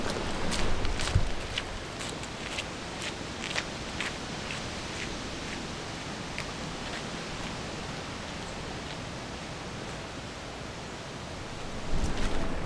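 A small brook streams through woodland near a church, giving a steady, soft rushing wash of water that runs evenly throughout, with a few light crackles and footstep-like taps on top.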